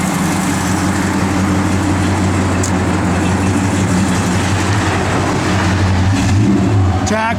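A 1970 Plymouth Duster's 340 V8 rumbles loudly and steadily nearby, holding a deep, even idle with a slight rise in revs toward the end.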